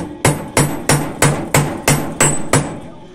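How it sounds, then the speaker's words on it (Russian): Steel being hammered on an anvil to forge a blade for a hand jigsaw: eight sharp, ringing metallic strikes at an even, brisk rhythm, close and loud, with no talk. "и начинаем колотить."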